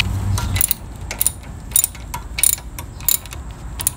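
A ratchet tightens the wheel bearing bolts on a Toyota Camry during a wheel bearing replacement, giving several sharp clicking bursts at an irregular pace against a low hum.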